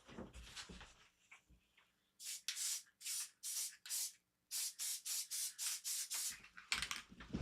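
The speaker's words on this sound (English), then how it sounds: "I'm going to put a little spray glue" An aerosol can of spray glue hisses in a string of short sprays, some paused briefly, then a longer run of steady rhythmic bursts, close and fairly loud.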